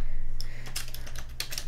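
Quick bursts of typing on a computer keyboard at close range, irregular clusters of key clicks over a steady low hum, with no voice.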